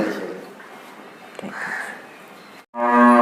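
A cow on a dairy farm lets out one loud, close moo at the very end, after a stretch of quiet background murmur and voices.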